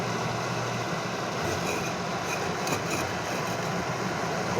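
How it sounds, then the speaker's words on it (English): A homemade bathroom exhaust fan runs steadily, giving a constant broadband whoosh of moving air over a low motor hum, with no change in level from start to finish. "The fan is blowing out from the back."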